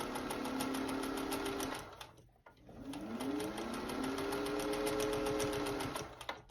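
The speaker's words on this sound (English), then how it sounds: "here I'm just stitching the sleeve into the top of the blouse" A vintage Singer 201 sewing machine stitches a blouse sleeve, a fast steady mechanical whirring hum that stops briefly and then resumes, with a rising and falling motor tone, close and clear.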